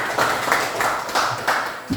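A class claps together in a classroom during a chemistry lesson, with loud, close claps in a quick, regular rhythm of about five beats and short gaps between them.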